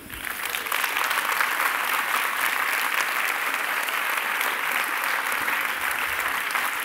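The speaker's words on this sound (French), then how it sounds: "Venez donc prendre place sous les applaudissements mérités pour cette conférence absolument passionnante." After a lecture on stardust, the audience breaks into sustained, even applause, rising quickly and holding as a full wash of clapping with no talk over it.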